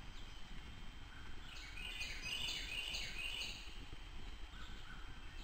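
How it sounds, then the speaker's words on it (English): A Carolina wren sings in the woods along Fern Creek in West Virginia's New River Gorge: a fairly faint, bright run of repeated song phrases over a low rustling background, with no talking. "Carolina wren."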